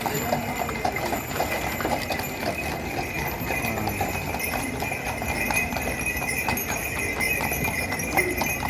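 Hooves of horses and mules hauling carts clip-clop steadily along a street during the Tres Tombs parade in Vilanova i la Geltrú, with a busy outdoor crowd murmuring around them.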